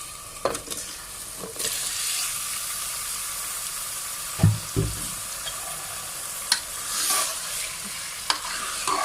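Chicken pieces fry with onion, ginger and garlic for matar gosht, giving a steady close sizzle and hiss broken by occasional thuds and scrapes of stirring in the pan, with no voices.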